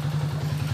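A Honda TMX125 motorcycle engine running noisily after a repair, a steady close rumbling idle with a fast rhythmic clatter throughout and no talking.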